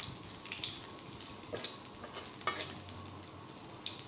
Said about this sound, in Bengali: এখানে আমি বাগার দেওয়ার জন্য মরিচ দিয়ে দিচ্ছি, শুকনা মরিচ আর রসুন পেঁয়াজ কুচি।